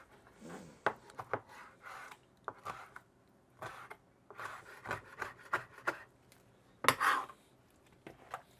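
A knife cuts meat into small pieces for gyros on a board, making a series of close, irregular chopping knocks and scraping rubs with short pauses between them.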